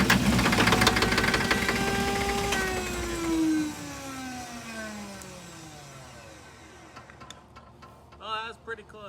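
A 1995 Chevy 6.5 diesel engine cranks over with a rough, rhythmic mechanical churn that winds down in pitch as it slows, then fades toward silence; a voice speaks briefly near the end.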